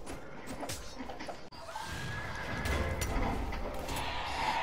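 A horse whinnies in a video game, a bright rising call standing out over busy game music and effects, with a brief dropout early on.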